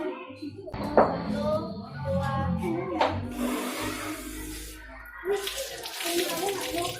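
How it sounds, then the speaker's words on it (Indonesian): A fully opened water tap gushes in a steady stream during a water-flow experiment, while several people, including a child, talk and count over the running water. "Sekarang keran dibuka. Penuh."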